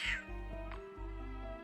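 A cat meows a few times in drawn-out, tonal cries close by, over a steady low hum, with a brief hiss at the start.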